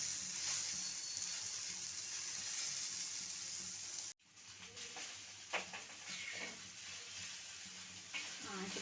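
Sliced okra (bhindi) frying on a high flame in a pan, a steady loud sizzle that cuts out abruptly, then resumes softer with stirring scrapes and small crackles.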